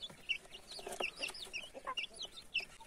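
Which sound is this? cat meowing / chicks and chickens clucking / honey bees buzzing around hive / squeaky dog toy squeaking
chicks and chickens clucking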